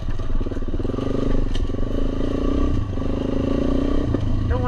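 A dual-sport motorcycle climbing over rocks on a hard enduro trail, its engine chugging at low revs with a pulsing note, close and loud, with clattering knocks as the bike hops over the stones.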